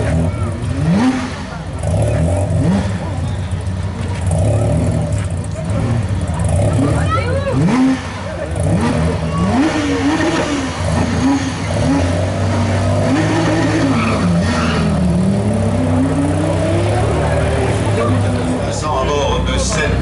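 A Renault 21 Turbo rally car, a former Europa Cup car, accelerates up a historic hill climb, its engine revving loud and rising through the gears with shifting pitch, while a commentator talks over it almost throughout.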